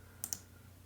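A computer mouse clicks twice in quick succession, soft and close, over a low steady hum while recorded camera events are browsed.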